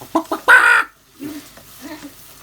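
A chicken clucks in a few short bursts and then gives one loud, drawn-out squawk, followed by softer, lower clucks close by.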